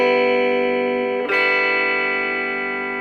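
An electric guitar plays through a Donner 5W battery-powered mini amp with the drive turned all the way up. A sustained, buzzing distorted chord rings out, is briefly re-struck, and then rings on, loud and steady.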